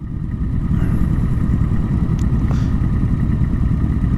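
A Suzuki M109R motorcycle rumbles steadily nearby, a loud low-pitched engine drone that holds even throughout with faint clattering on top.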